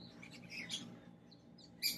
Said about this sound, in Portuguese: Acordando aqui com as maritacas, os passarinhos.